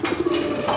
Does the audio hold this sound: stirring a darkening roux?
no